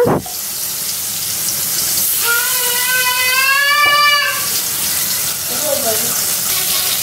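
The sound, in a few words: rohu fish frying in oil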